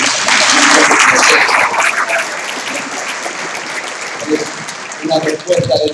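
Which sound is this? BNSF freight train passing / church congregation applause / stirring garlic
church congregation applause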